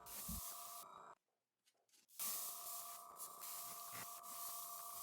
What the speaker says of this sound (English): use Wicked Pearl White to spray paint the face of the lure